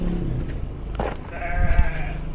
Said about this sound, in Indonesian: Ini kandang kambing juga.